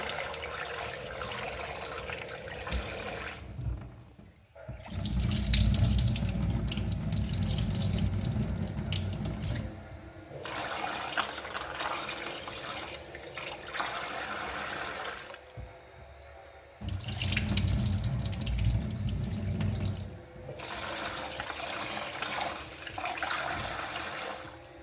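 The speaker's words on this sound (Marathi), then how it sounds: "आपण आता राळ्याचे तांदूळ आणि डाळ धुवून घेऊया डाळ आणि तांदूळ धुवून घ्यायचे आपल्याला" Millet rice and lentils being washed under a running kitchen tap, steady splashing water flowing in long bursts with brief pauses between rinses, no talking.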